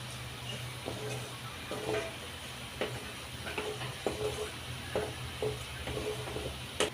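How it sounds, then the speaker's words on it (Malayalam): Tamarind fries in oil in a kadai for a Kerala-style small onion pickle, a gentle steady sizzle with regular scraping stirs of a spoon against the pan, close and quiet, without any talking. "പുളി നമ്മൾ എടുത്തിട്ട് നമ്മൾ കടായിൽ എണ്ണ പുളി ഇട്ടിട്ട് നല്ലതായിട്ട് ഫ്രൈ ചെയ്തുകൊണ്ടിരിക്കുക"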